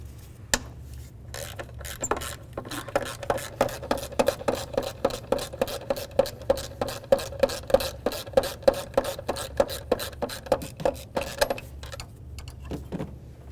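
A hand ratchet with a 12mm socket loosening a bolt in the engine bay of a 2007-12 Nissan Sentra, a long, steady run of sharp, close clicks that slows and stops at the end.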